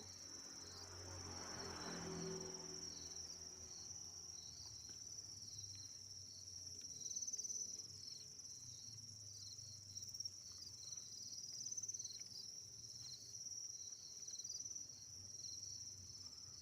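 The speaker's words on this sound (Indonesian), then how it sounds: "Hampir semua wadah nampan plastik ini dipenuhi dengan jangkrik yang sedang bertelur kawan" A faint, continuous chorus of crickets chirping in a shrill, steady drone from plastic breeding trays, with soft low background rumble and no voices.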